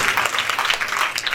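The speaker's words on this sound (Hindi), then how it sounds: "एकचोटि ताली बजाइदिएर सबै गुरु चरण" A short burst of dense clapping from a crowd at a religious gathering, loud and continuous with no pauses.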